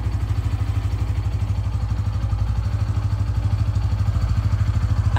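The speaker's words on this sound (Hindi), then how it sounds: "अब आप इस बाइक के इंजन का साउंड सुनिए आइडियल कंडीशन पर" A 2024 Bajaj Pulsar N160 motorcycle engine idles nearby, a low steady thumping with an even, rapid beat and a light mechanical clatter.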